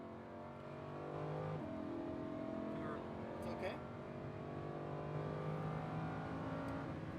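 A Lamborghini Huracan engine accelerates on a race track, its pitch climbing and shifting through gears in a steady in-cabin drone, while an instructor talks over it.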